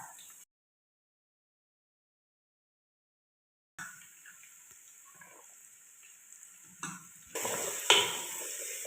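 Onions sizzling in hot oil in a pan for biryani, after ginger and garlic have browned. A soft, close fry hiss starts after a long silence and grows louder toward the end, with faint scraping as they are stirred.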